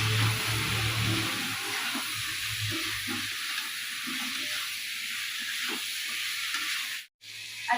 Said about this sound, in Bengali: আলুটা একটু ভাজা ভাজা হবে, তারপরে টমেটো আর ধনের গুঁড়ো দেবো